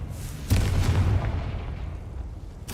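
The Confringo explosive spell in the video game Hogwarts Legacy goes off as a booming blast, followed by a rumbling decay and a second burst at the end.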